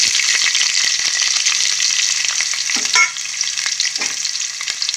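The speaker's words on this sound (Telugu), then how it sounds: "ఇది చక్కగా ఫ్రై చేస్తాను" Green chillies and onions frying in hot oil give a loud, continuous sizzle with scattered crackles and a stirring scrape near the middle, close and unbroken.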